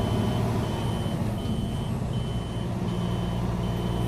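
A truck reversing into an inspection bay at a highway checkpoint sounds its backup alarm, a steady series of evenly spaced beeps heard from a distance over a constant road and engine rumble.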